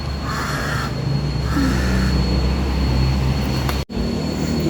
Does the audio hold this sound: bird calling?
yes